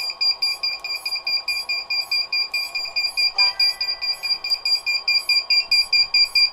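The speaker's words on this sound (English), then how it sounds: "Now I can shut off the beeper." A beeper sounds a steady, rapid train of bright, pulsing electronic beeps, about three per second, repeating evenly throughout, with a faint click partway through.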